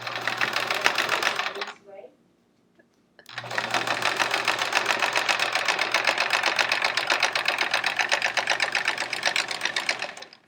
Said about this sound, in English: Free motion quilting with straight lines.